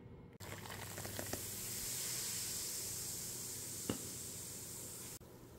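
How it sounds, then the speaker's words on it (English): Hot boiling water is poured into heaping tablespoons of baking soda for soft pretzels, making a quiet, continuous hissing splash that lasts several seconds before cutting off. "we're gonna add about 3 cups hot boiling water."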